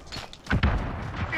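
A grenade explodes in the Modern Warfare video game, giving a heavy low boom with a short thud-like body. Game gunfire, effects and voice lines continue around it at moderate level.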